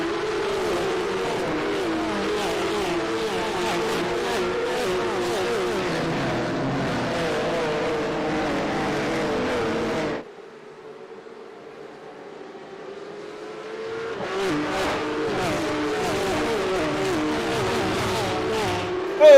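Porsche Cup race cars roar away from a standing start at Okayama Circuit, a loud dense pack of engines revving and accelerating, briefly dropping to a quieter lull before the full engine noise swells back in.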